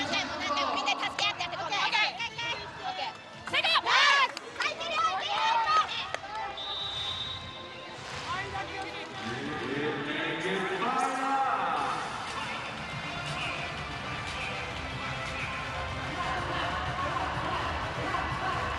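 Crowd cheering and clapping in an indoor volleyball arena during a Japan versus Dominican Republic VNL 2024 match, loud at first, then settling into a steady roar, with ball and court noises mixed in.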